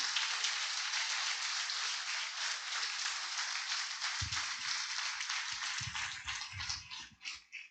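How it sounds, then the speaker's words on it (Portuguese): Church congregation applauding, a dense, steady wash of many hands clapping at a distance that holds for several seconds and then thins into scattered claps. "Dê um aplauso a ele."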